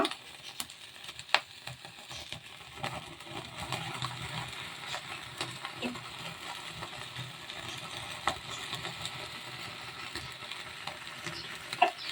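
Tandoori chicken pieces sizzle and fry in a pan, a steady bed of crackling hiss with scattered clicks and stirring scrapes running continuously for about twelve seconds, no voices.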